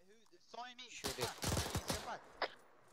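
Gunfire in the video game Arma: a dense, loud cluster of shots and blasts rolls through the middle, ending with one sharp crack, while a voice talks briefly beforehand.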